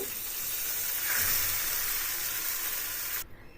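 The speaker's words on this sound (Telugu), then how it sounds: "ఇప్పుడు ఈ తాలింపుని మనం పప్పు పైన వేసుకుందాము" Hot tempering is poured onto a pot of raw mango dal, erupting into a loud, close sizzle and hiss that swells in the middle, holds steady, then stops abruptly near the end.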